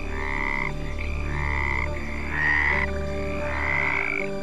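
Several frogs croak loudly and close by in a rhythmic, repeating chorus, with four or five drawn-out croaks in a row and no voices.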